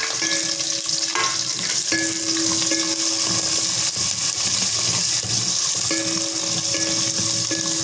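Onions hit hot oil with dried red chillies while moringa leaves sambar is being made, giving a steady crackling sizzle. Stirring scrapes and clinks against the pan sound repeatedly, and a faint tonal hum comes and goes in the background.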